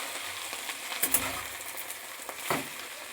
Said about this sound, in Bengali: এবার ভালো করে শিমের সাথে মেথি শাকগুলোকে নাড়াচাড়া করব, খানিকক্ষণ নাড়াচাড়া করে নেব শিমের সাথে।